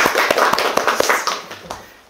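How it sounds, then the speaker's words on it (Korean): A small group claps to open a book-reading meeting on Korean Christian history, sharp uneven hand claps at close range that thin out and fade toward the end. "우리 시작하면서 박수로 한번 열어볼까요?"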